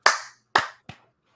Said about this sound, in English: That's got the clap sync there.